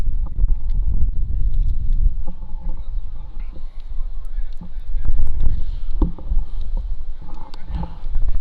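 Wind buffeting the microphone at an outdoor cricket match, a continuous low rumbling rush that swells and fades, heard under faint background voices.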